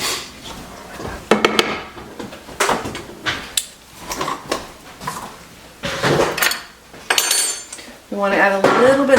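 A pot of food stirred with a metal utensil, clattering and scraping against the sides in irregular bursts, close and fairly loud, with a brief clink of cutlery.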